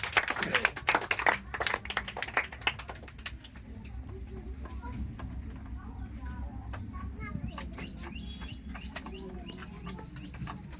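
A short burst of clapping from a group in a classroom quiz setting opens the clip, then fades into room noise with birds chirping faintly.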